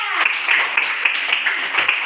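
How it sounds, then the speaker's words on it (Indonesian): Classroom students clapping for a classmate during a lesson on volume units, a short, even patter of many small hands at close range, without speech over it. "Tepuk tangan untuk Laila."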